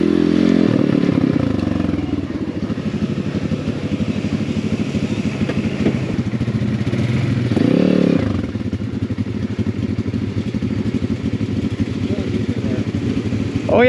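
A budget Amazon dirt bike engine drones and revs steadily as it rides offroad through water, with rises in throttle and some clatter, close to the microphone.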